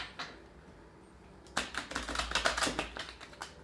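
Quiet room tone, then a rapid flurry of crisp clicking and riffling, like a deck of cards being shuffled up close, lasting about two seconds.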